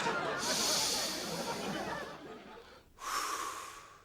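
Slow, deep breathing during a calming breathing exercise: a long airy inhale, a brief pause, then a soft hissing exhale, close and quiet.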